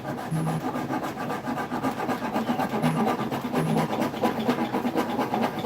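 Steady rasping of wood during heel carving, a continuous coarse scraping with repeated strokes that runs without pause throughout, fairly close and even in loudness.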